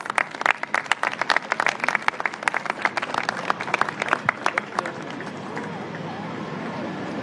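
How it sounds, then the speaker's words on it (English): An audience at a city World Cup announcement press event claps in a brisk, fairly distant round of applause with crowd murmur underneath, the clapping tapering off after about five seconds into a low room hum. "Another round of applause."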